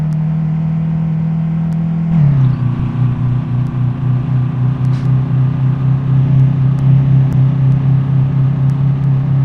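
Tofaş Şahin car engine in Euro Truck Simulator 2, a loud steady drone that drops in pitch after a couple of seconds and then pulses unevenly, as if faulty, with no talk.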